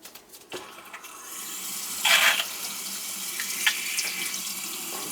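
Running water pours from a kitchen faucet with weak, restricted flow, a steady close hiss that swells into a brief louder gush partway through, with a few small clunks around it.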